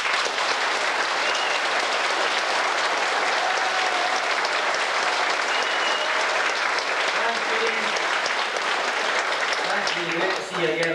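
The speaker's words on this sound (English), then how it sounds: "Applause once again for Judy." An audience claps for a fiddle player at a 1992 Dufftown dance-music show, sustained and dense, loud and unbroken for the full length, with a brief dip near the very end.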